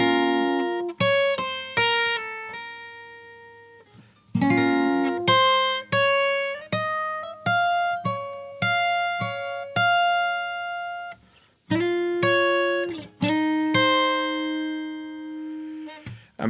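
Fingerstyle acoustic guitar plays a song: clear plucked notes and chords ringing out in phrases with short gaps, close and alone with no talking.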